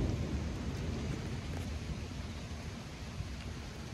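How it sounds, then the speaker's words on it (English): Thunder rumbles low and continuous through a violent thunderstorm, a broad dense roar filling the air along with rain noise, with no talking. "we just got a full wall of thunder coming this way"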